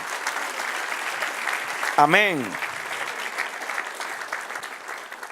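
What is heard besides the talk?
applause for the Lord in church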